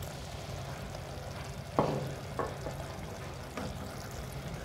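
Spoon scraping and stirring tomato curry with chili powder in a pan, a soft low sizzle throughout and a few sharper scrapes and knocks against the pan, heard up close with no talking.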